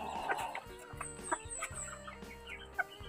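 A white Kelso gamefowl clucks nearby at a low level, giving a series of short, soft clucks and murmurs with a few sharper calls, and no voices.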